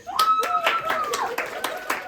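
Audience clapping greets a poet arriving at a literary slam in Kyiv, brief scattered claps close by and mixed with an excited voice speaking over them.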